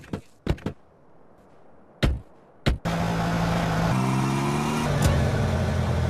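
Car engine from GTA San Andreas on PS2 starts after a few clicks and knocks, then runs steadily and revs up in a sustained droning hum with gear-shift steps, close and loud.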